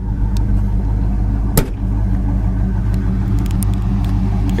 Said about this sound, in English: Exhaust sounds good, absolutely no smoke.